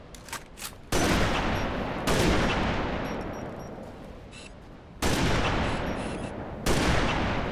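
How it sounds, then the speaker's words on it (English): A Halo Reach sniper rifle fires in the video game, four loud, sharp booming shots spaced about one to two seconds apart, each trailing off in a long echoing decay, with faint game tones and no voices. "The sniper rifle is back, better than ever as well, looking very sleek and nice, sporting the iconic Halo sniper sound."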